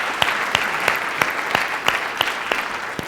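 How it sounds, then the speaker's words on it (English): Applause from a crowd at a university event, a steady wash of clapping with a few sharper claps standing out, moderately close and without talk. "Let's give a round of applause to those who did that."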